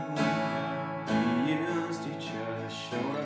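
Acoustic guitar strumming a chord section from a song lesson, ringing chords changing over a few seconds with a sliding bass note in the middle, fairly quiet and close, no voice.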